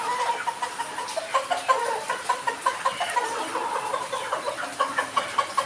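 Turkeys cluck and chirp in a busy, repetitive patter, a steady flock calling close by with no talking.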